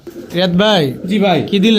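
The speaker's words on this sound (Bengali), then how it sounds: "এটা কবুতর কবুতর দেখেন" Soft pigeon cooing close by, a few rolling throaty coos in quick succession, partly overlapped by a nearby voice.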